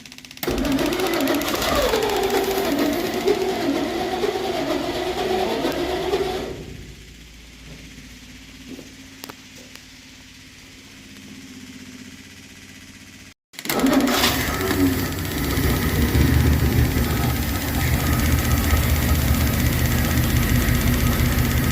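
A 1963 Studebaker Champ pickup engine runs roughly with a loud clattering idle, then dies and goes quiet when it runs out of gas before cranking and roaring back to life.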